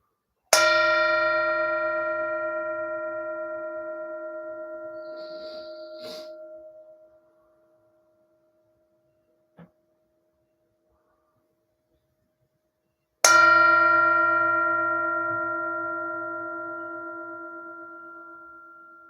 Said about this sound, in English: our aspiration is to enjoy this sound of this bell